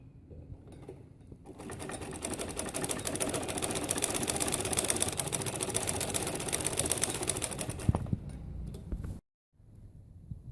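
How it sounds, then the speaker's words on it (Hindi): Salwar channel being sewn on a sewing machine, a steady close whirring run of rapid stitching that starts after a short pause and stops abruptly near the end, with a brief quiet handling sound afterward. "अब मैं नाली सी रही हूँ।"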